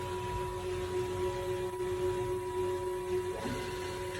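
The spindle of a 2007 Haas VF-3 CNC vertical machining center runs at 500 RPM, giving a steady, even mechanical hum with a constant tone and a slight shift near the end.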